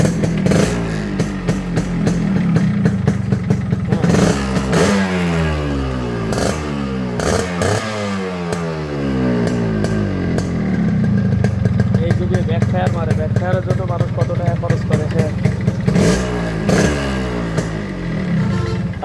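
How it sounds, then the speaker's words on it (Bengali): A 2002 Yamaha RXS 115 motorcycle engine runs and revs in repeated rising and falling bursts, loud and close. Speech-like content is tagged, but no words come through clearly. "যদি স্টার্ট দিয়ে যদি দেখাই যে মিটার আরপিএম দেখে"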